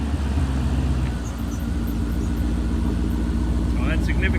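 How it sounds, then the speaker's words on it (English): A 1999 BMW E39 540 with an oil-smoking engine idles roughly and steadily, a low uneven rumble running throughout with some background sounds near the end. "I'm just turning the car on so I can let y'all hear how rough it is."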